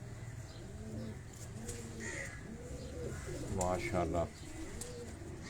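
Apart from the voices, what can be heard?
pigeons cooing on a rooftop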